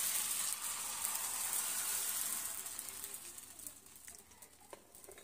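Rava appam batter sizzling and pattering on an unoiled appe pan over a medium gas flame, a steady soft frying hiss that slowly fades, with no one talking.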